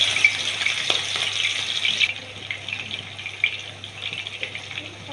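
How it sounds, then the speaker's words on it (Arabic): Onions frying in oil for Egyptian koshari, a bright hissing sizzle that eases off partway through, with occasional soft knocks. "ودلوقتي هاخده معايا علشان خاطر اقليه في الزيت"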